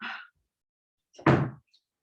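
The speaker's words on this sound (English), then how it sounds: "I have to close the door." A door being closed in a room during an online meetup talk: a short scrape is followed, after a silent gap, by a single dull, close thud, with no talking.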